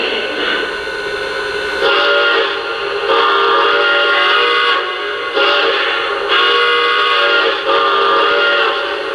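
A steam locomotive whistle from a Lionel Reading T1 model sounds in several sustained blasts separated by brief gaps, loud and close, with rich harmonic tones and no talking.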